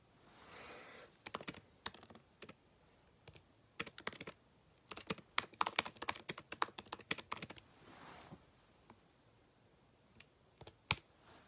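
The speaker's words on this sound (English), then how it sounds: "I just typed another question." Rapid bursts of computer keyboard typing, close and clear, with quick clustered keystrokes separated by short pauses in a quiet room; no voices.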